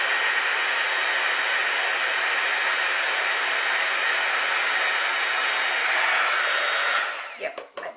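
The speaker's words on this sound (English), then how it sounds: "I think that just needs a tiny bit more heating on that bit" A heat tool blows steadily on a cut-out card piece for about seven seconds, a loud, even hissing roar of hot air that cuts off near the end, leaving brief handling clatter.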